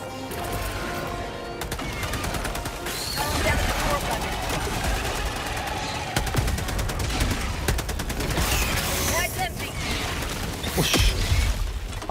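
Machine gun fire crackles in bursts through a co-op shooter game, repeated rapid shots layered over busy mechanical clatter, with players talking over the action.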